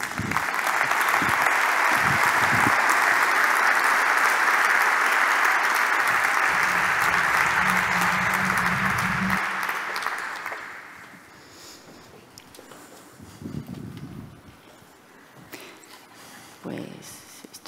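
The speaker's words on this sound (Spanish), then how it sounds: "Un fuerte aplauso para él." Loud, sustained applause from a conference audience greeting the president of SAP Spain, dense for about ten seconds before dying away into a quiet room with a few scattered sounds.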